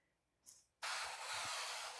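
A brief hiss, then a sustained aerosol spray of avocado oil into the bottom of a pan lasting over a second, close and fairly loud with faint clinks beneath.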